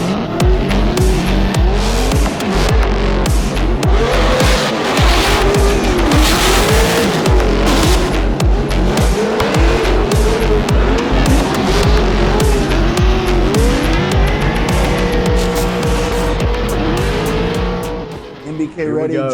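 A drift car at full throttle through the final inside clipping point of a competition run, engine revving hard with loud continuous tire squeal and screeching, close and dominant, with commentary voices mixed underneath.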